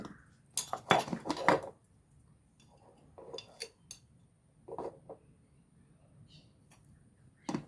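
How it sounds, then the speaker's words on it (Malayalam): Eggs being stirred with salt and pepper in a bowl, with bursts of clinking utensil against the bowl, a loud cluster early on and softer scrapes and taps later, close by and otherwise quiet. "നല്ലോണം ഇളക്കി കൊടുക്കും"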